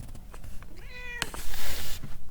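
A cat meows once with a clear rising-then-falling call, close and fairly loud, followed by soft rustling and room noise with no talk.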